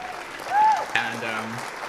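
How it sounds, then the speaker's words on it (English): A short burst of clapping applause plays while a voice sounds over it, fading quickly. "Puts in another applause audio."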